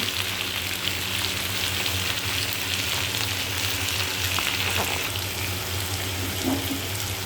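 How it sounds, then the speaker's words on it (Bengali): Lightly salted potatoes fry in oil, a dense, steady hiss and crackle like rain that holds evenly throughout without speech. "এবার আলুটাকে ভেজে নেব।"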